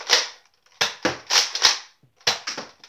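Foam darts fired from a powerful but inaccurate Nerf blaster during a backyard shootout, heard as about six sharp popping shots in irregular bursts with short gaps between them.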